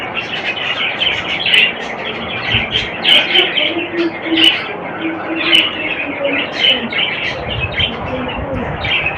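Newly hatched baby birds with eyes just opening, making repeated thin high chirps in quick bursts, close by, over a low steady background and occasional soft voice.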